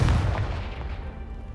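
A Confringo spell blast in Hogwarts Legacy, a deep booming explosion that hits loudly at the start and then rumbles away into a sustained low roar.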